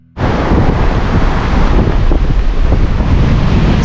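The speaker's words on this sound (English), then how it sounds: "The waves are really rough today." Rough ocean surf churns against a rocky shore riddled with holes in Mexico, with loud wind buffeting and a constant roaring wash that starts abruptly and continues without any voices.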